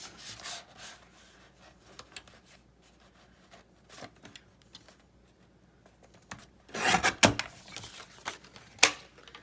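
A paper cutter slices through a folded craft fold-over tag, with soft scraping and rubbing, then a sharper burst of cutting near the end; no voices.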